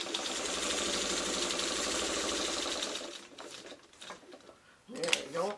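A sewing machine stitches a paper-pieced quilt block in one steady close whir for about three seconds, then stops, followed by light handling clicks and a brief voice.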